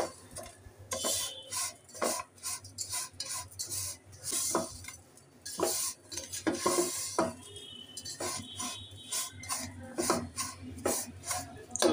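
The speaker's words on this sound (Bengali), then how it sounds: "গুঁড়া দুধটাকেও নেড়ে চেড়ে আমি সেমাইটার সাথে মিশিয়ে নেব।" Powdered milk is stirred into lachha vermicelli frying in a pan over low-medium heat, making uneven scrapes and spoon clinks against the pan with a soft sizzle underneath, up close and without speech.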